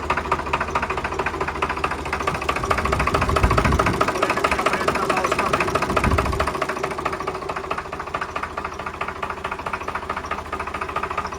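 A Swaraj tractor engine, rebuilt for the third time, runs steadily nearby with a rapid mechanical clatter over low thumping, loud and continuous with no talk.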